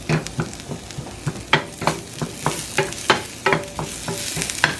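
Chopped onion and garlic sautéing in a pan, a loud close sizzle broken by a quick regular run of spoon scrapes and taps as the mix is stirred, no speech.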